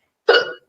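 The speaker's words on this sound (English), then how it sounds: "Oh my gosh, I'm having hiccups." A single loud, close hiccup, a short voiced gulp from a person, heard alone.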